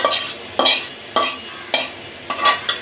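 Chicken roast pieces stirred in a hot wok, a spatula scraping through the pan in five or six loud, evenly spaced strokes over a steady low sizzle, with no voices.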